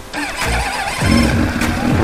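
Lada Niva engine starting near a lake, a brief cranking whirr that catches and settles into a loud, steady idle rumble close by.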